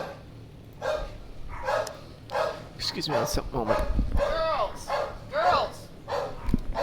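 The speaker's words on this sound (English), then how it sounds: "Somebody's walking their dog, and of course, we have to pay the penalty of dog barks." A dog barks repeatedly outside, a series of sharp, mid-distance woofs and yips, while a person speaks briefly over the start.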